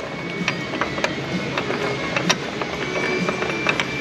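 A big bolt threaded into the subframe of a 2007 Chevrolet Monte Carlo SS 5.3, heard as a steady run of close metallic ratchet clicks over a constant hum, with no talk.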